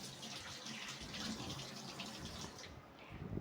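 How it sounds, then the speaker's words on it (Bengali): A kitchen tap runs steadily while hands are washed after handling a fish head, with a close, continuous hissing splash that shifts a little in tone as the hands move under the flow. "হাতটা ধুয়ে নিই"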